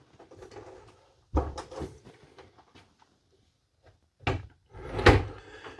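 A bathroom door in a 2024 Forest River Sunseeker 3010DS Class C motorhome is closed, giving two sharp wooden thuds a few seconds apart with light handling rustle between them, close and fairly quiet, no talking.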